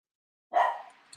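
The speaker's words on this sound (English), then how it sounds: "You hear my dogs barking?" A single short, faint bark from a dog, heard once at a distance.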